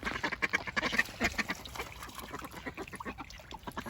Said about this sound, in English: One of the male mallards, and I think this black Swedish is a male as well.